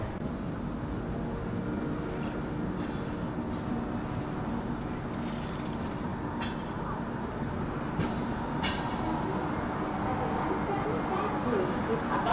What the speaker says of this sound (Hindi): हमारी ट्रेन पहुंच रही है इगतपुरी।